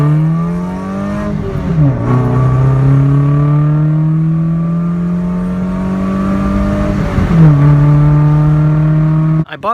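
A Mazda2 with a 1.5-liter engine revs through a secondhand aftermarket exhaust, a loud, growly drone climbing steadily in two long pulls, each dipping briefly before rising again, close to the microphone with no talking.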